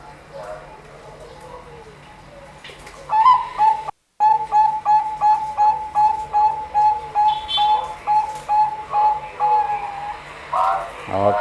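A male zebra dove (perkutut) at a bird breeding farm coos in a long, evenly spaced series of short rhythmic notes, clear and close, after a quieter stretch with faint background sounds.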